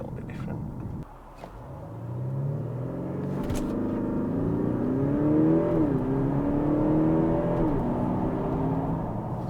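A large car accelerates hard on a timed run, its engine note climbing steadily with a brief dip at each gear change, loud and continuous with no voices.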